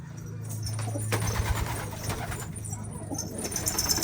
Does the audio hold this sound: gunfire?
no